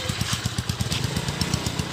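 A motorcycle engine, freshly rebuilt and being broken in, idles smoothly nearby with an even, rapid pulsing rhythm and no talk over it.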